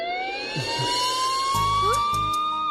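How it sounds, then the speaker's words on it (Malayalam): Police siren played from a phone, a wailing tone that rises and holds, with short thumps and other sounds breaking in near the end. "പിന്നെ ഈ സൈറൻ എന്റെ ഫോണിൽ നിന്ന്"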